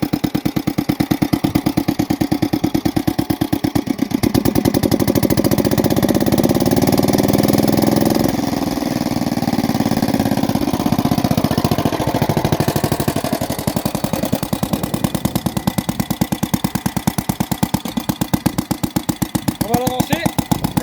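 A Mercedes W110 engine runs steadily up close, loud and lumpy with a fast mechanical chatter and a brief knock, while French voices talk over it now and then.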